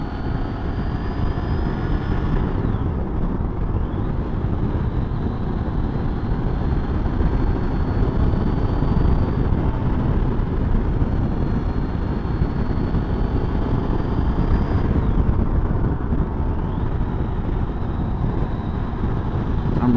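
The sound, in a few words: Triumph Tiger motorcycle being ridden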